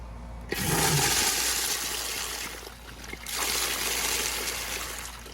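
A Universal Rundle Colburn urinal flushes with a sharp onset, then a steady loud rush of water that dips briefly and surges again before draining, close by with no talking.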